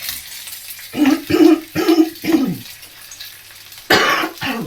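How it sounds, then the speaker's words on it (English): A run of four sharp coughs in quick succession, close and fairly loud, followed by a pause and then two more harsh coughs. "I do have a cough at the moment."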